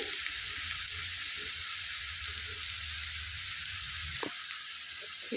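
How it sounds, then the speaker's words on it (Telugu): Finely chopped onions with curry leaves frying in a pan give a constant, even hiss of oil, with a low bubbling crackle underneath and a brief knock near the end, no voices. "సన్నగా కరివి పెట్టుకున్న ఉల్లిపాయలు వేసుకొని వేయించుకోవాలి"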